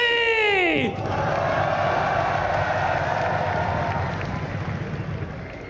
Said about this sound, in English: this crowd is amazing